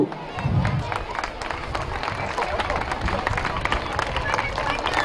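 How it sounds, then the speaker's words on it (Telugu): Audience at a minister's village development event in Kamareddy district claps continuously in a dense, sustained patter of many hands, with faint crowd murmur underneath. "చప్పట్లతో అందరూ"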